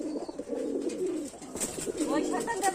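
Fulshira pigeon giving repeated low, throaty coos close by, with a person talking over part of it.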